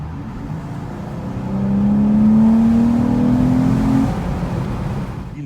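A Dodge Charger GT with a V6 engine accelerates, its loud, close engine note climbing steadily in pitch, then easing back as it settles.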